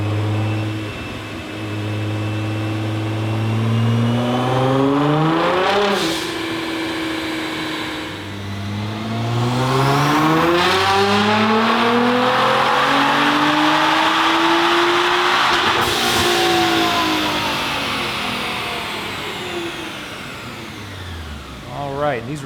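A tuned 2021 Nissan GT-R with a Stage-2 flex fuel package runs on dyno rollers, its engine loud and close as it revs and climbs steadily through the gears with rising, falling pitch.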